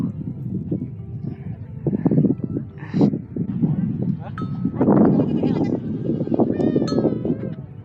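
Goats bleat repeatedly near Pranburi dam in Thailand, loud close cries overlapping with one another and mixed with people chatting nearby in an outdoor setting.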